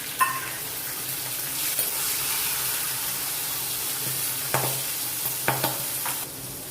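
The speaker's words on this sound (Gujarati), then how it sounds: "હવે એમાં આપણે 1 વાટકી વટાણા એડ કરી દઈશું।" Peas tipped into frying masala in a pan and stirred, a steady close sizzle with a few sharp scraping clinks of the spoon against the pan.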